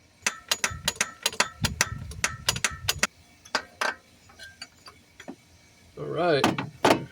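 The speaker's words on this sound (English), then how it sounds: "Let's try breaking loose that bolt" A wrench works a bolt loose on a Volvo 240 DL, giving a rapid series of sharp metallic clicks and ratcheting snaps up close, then a few scattered knocks, with a voice speaking briefly near the end.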